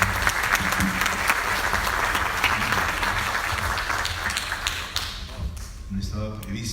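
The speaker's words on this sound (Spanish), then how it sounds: "Un fuerte aplauso para él." Audience applauding at a university honorary doctorate ceremony, a sustained, dense wash of clapping that fades toward the end as a voice begins speaking.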